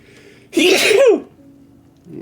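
A single close, loud sneeze bursting out with a sharp intake and explosive release, followed by quiet room tone.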